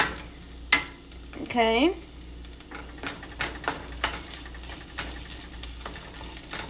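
Vodka-style pasta sauce cooking in a hot pan gives a steady sizzle and bubbling hiss with occasional stirring clicks, close up, and a brief voice speaks once.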